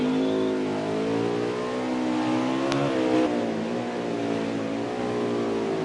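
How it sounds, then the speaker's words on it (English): Race car engine in a racing video game at Sonoma (Sears Point) track, a steady loud drone with pitch rising and dropping as it shifts gears, including one sharp shift partway through, with no talk. "You can hear his shifting points and how hard this track is."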